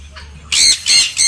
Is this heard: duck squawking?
yes